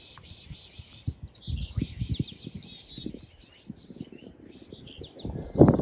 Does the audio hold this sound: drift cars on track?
no